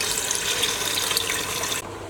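Half a litre of water poured from a container into roasted dal mash with beef in a cooking pot, a loud steady close splash that stops abruptly near the end.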